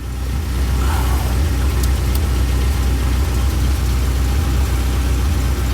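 A car engine idles with a steady, continuous low hum and rumble that holds even and close for the whole stretch, with no voices over it.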